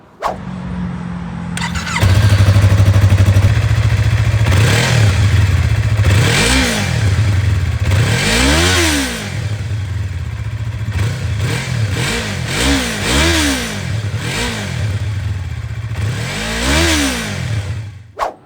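Yamaha R3 motorcycle with its stock exhaust starting up and idling, then revved in a series of sharp, rising and falling blips, close and loud, with no talk.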